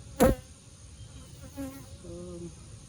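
Honey bees hum faintly at an open hive crowded with nurse bees, a low steady drone with a brief sharp knock early and a few louder close buzzes passing by.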